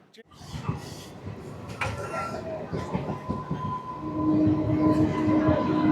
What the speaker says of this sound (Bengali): এই ট্রেনে করে আমরা এখন পৌঁছালাম